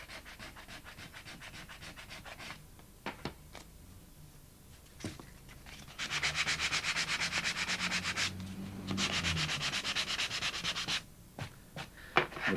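Close, steady sanding of a painting's surface by hand, broken rubbing strokes at first, then long continuous scrubbing bursts with short pauses, alone without voices.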